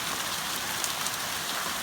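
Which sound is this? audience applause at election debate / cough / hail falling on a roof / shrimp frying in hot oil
hail falling on a roof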